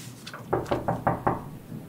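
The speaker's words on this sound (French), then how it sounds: "arrivé devant le logis de l'ancien porteur d'eau, frappa à sa porte" Someone knocks on a door, five firm, evenly spaced raps close by, set against a quiet room background with no talking.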